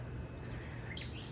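A steady low hum of an electric fan running close by in a backyard garden, with faint bird chirps in the background.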